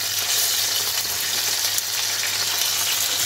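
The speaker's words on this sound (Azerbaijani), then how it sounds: "İndi isə əriyi qovururam." Dried apricots fry in hot oil in a pan, giving a steady, loud, close sizzle with a bright hiss that holds even for a few seconds.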